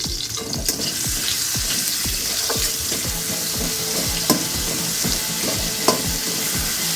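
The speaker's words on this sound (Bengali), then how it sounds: "আদাটার মধ্যে টমেটোটা দেওয়ার পরে আমি একটু হালকা করে ভেজে নিয়েছি" Tomato and ginger fry in a pan with a loud, steady sizzle, broken by repeated scraping strokes of a spoon stirring at an even pace and a couple of sharper clinks against the pan.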